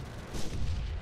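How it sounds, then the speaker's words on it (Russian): A heavy tank cannon blast rumbles briefly in the game Theatre of War, a dull booming roar that fills the short moment without any speech. "Попадание из кумулятивного по нашему танку."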